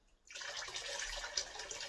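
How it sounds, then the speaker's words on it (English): Water poured into a pot for Nigerian-style fried rice, a short steady splashing stream that starts abruptly after a brief silence and runs close and unbroken. "Then I'll be adding water."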